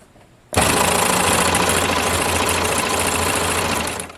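A Baby Lock Enlighten serger runs at speed, its rapid mechanical whir starting abruptly and holding steady for several seconds close up before easing off.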